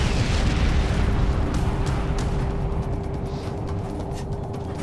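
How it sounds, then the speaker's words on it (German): Continuous explosions and rumbling booms from the video game Crysis Warhead, a loud dense roar with scattered sharp bursts and a steady tone underneath, heard alone without talk. "Es explodiert nur alles rings um uns herum."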